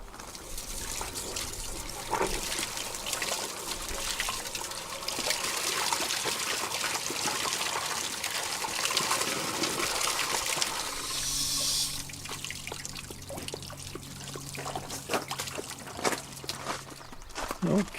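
Water rushes and splashes steadily from an RV water heater flushed out with a flusher hose under high park water pressure, a loud continuous gush that changes tone midway, with a faint low hum and scattered clunks.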